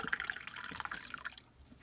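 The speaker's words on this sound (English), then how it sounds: "Pour it in the cup." Coffee pours from an under-counter coffee pot into a cup: a soft, close trickle of liquid for just over a second, then it stops and leaves a quiet room.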